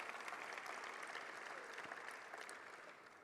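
Faint, distant audience clapping at a political party dinner, a steady wash of applause that slowly fades toward the end.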